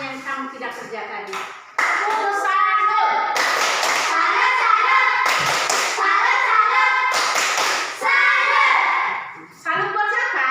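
A group claps together in a salute, with several bursts of applause and taps from children and adults, close and loud, under and between talk.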